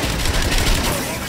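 Rapid gunfire blasting at a core during a boss fight in the video game Agents of Mayhem, a dense continuous barrage with music and effects underneath, loud and close throughout.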